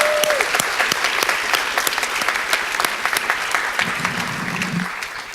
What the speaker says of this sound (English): Can we give them a round of applause too?